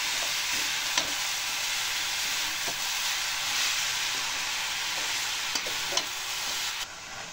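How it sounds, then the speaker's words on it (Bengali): Jaggery melts with a little water in a pan while being stirred, giving a steady close sizzling hiss with faint scraping ticks of the spoon and no talk. "এইভাবে নাড়বেন, দেখবেন যাতে নিচে না লেগে যায় পোড়া।"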